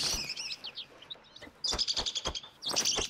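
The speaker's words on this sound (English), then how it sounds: "They gotta quit squeaking." Squeaky bird calls in The Hunter Call of the Wild on the Revontuli Coast: clusters of thin, high chirps and squeaks in short bursts, fairly faint over a quiet game background.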